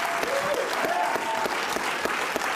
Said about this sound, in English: Oh, there's Cuomo clapping along.